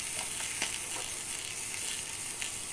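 Ginger, garlic and green chili frying in oil over a low flame, a steady close hiss with small crackling pops, heard alone without voices.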